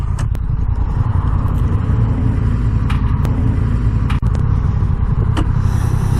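A 2021 Honda Rebel 1100 motorcycle with a manual gearbox rides along the road, its engine giving a steady, loud, close rumble mixed with wind buffeting and a few sharp clicks.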